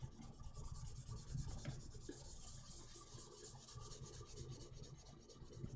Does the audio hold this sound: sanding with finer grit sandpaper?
yes